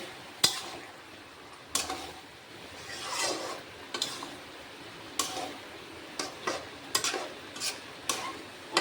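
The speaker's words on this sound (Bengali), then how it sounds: "ঢাকাটা উঠিয়ে নিচ্ছি ভালোভাবে নেড়ে দিতে হবে" Chicken kosha is stirred in a pot after the lid comes off, giving close, irregular scraping and rubbing strokes with soft sizzling between them and no voices.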